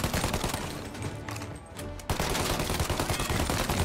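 A Thompson submachine gun fires in the Mafia remake video game: dense, loud bursts of automatic gunfire with a short lull in the middle, then another sustained rapid volley, no voices.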